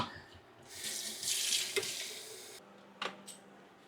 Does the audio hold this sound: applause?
no